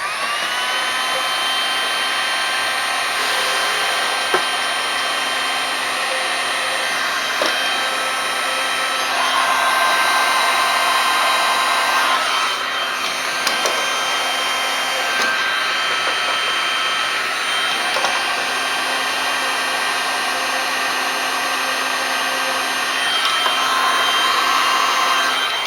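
Heat gun shrinking heat shrink tubing on a Honda Shadow motorcycle, a loud steady blowing whine held continuously throughout, close up and alone.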